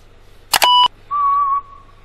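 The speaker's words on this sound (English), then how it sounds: "Whistling." Whistling worm from a Dora the Explorer click-and-create music game, a cartoon whistle tone that sounds twice in a short burst, then gives one steady sustained note, clear and alone.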